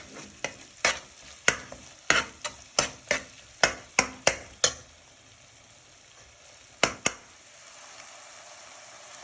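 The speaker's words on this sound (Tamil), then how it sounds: "அதில் பச்சை வாசனை போகிற அளவுக்கு கிட்டேருந்து நல்லா வதக்கிடணும்" Onions with ginger-garlic paste sauté in a pan for prawn biryani: a soft sizzle under a run of about a dozen sharp spoon taps and scrapes, then a pause, two more knocks, and quiet frying.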